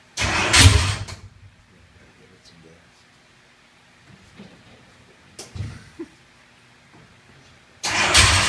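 A race car engine cranks and catches in loud bursts, separated by quieter stretches with faint talk, then roars up again at the end.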